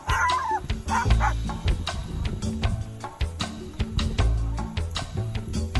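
A bird imitates a dog barking, repeating short yappy bow-wow calls and whimpers in a rapid, uneven series, loud and close throughout.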